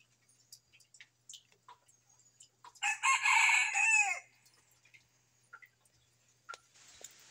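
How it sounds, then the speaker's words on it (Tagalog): A wild junglefowl rooster (labuyo) crows once at mid distance, a loud, drawn-out call lasting about a second amid quiet outdoor surroundings with faint scattered ticks and chirps. "Palagi na lang tumitilaok si Pandakaki mga katrops"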